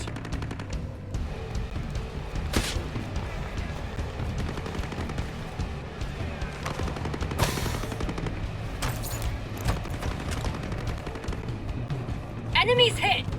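Sniper rifle fire in the video game Ghost Recon Breakpoint: several sharp shots crack out over a steady low rumble of game ambience, with scattered spoken voices around them.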